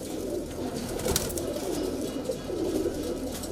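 Kalpare high flyer pigeons cooing steadily inside a loft, a soft continuous low murmur with overlapping coos and faint rustling, close and unbroken throughout.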